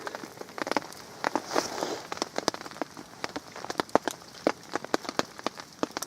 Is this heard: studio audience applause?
no